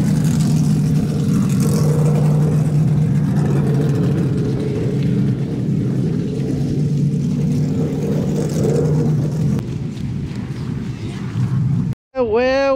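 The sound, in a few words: off-road trucks racing two at a time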